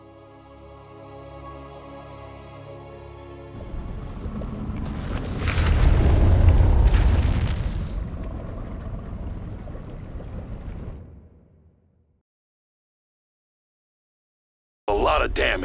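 Yamato cannon blasts and explosions in a space video game swell into a heavy, rumbling roar that peaks for a few seconds and then fades to silence, with a sharp burst returning at the very end.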